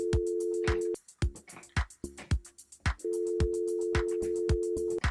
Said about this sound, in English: Real-time phone ring.